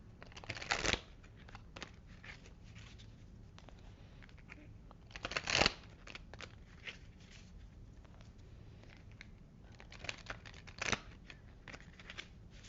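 Crystal Angels oracle cards are shuffled by hand close up, soft papery riffles and slides with a few sharper bursts, quiet and without talk.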